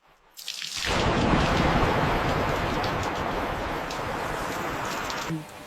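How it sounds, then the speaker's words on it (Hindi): Heavy rain with thunder suddenly starts and pours steadily, a dense hiss with a deep rumbling underneath, easing slightly near the end. "बारिश आ रही है"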